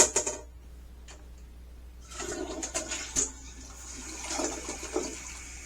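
A newly installed toilet flushes and its tank refills, a steady rush of water building and continuing as the tank fills, with faint ticking and clicks mixed in; no one speaks.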